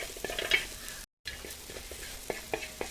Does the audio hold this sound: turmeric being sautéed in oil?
yes